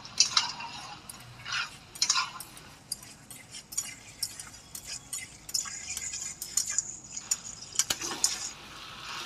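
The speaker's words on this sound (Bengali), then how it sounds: "তারপরে আমি আবার ভালো করে একটু কষিয়ে নেব।" Meat curry with fried potatoes being stirred and fried in a pot, giving irregular metallic clinks and scrapes of a spoon against the pot over a soft background sizzle.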